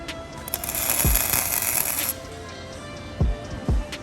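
A welder sizzles steadily while tack-welding onto a seized bolt on a Subaru Legacy Outback, a hissing crackle for about a second, then quiet with a few sharp clunks.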